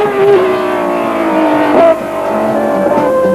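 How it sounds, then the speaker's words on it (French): A Matra 650 race car with a V12 engine at a historic hill climb rally, its engine wailing loudly and close, the pitch climbing and dropping through gear changes as it attacks the course. "Matra 650 à l'attaque."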